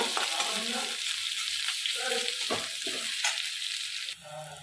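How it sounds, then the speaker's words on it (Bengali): Chopped onions frying in a pan, a continuous close hiss and sizzle with occasional stirring scrapes and clinks, steady and fairly loud, easing slightly near the end, with no talking. "পেঁয়াজ কুচিগুলো আমি দিয়ে দিলাম পেঁয়াজগুলো আমি ভালো করে ভেজে নেব"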